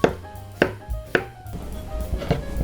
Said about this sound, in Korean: 나중에 함께 먹을 파프리카 잘라놓자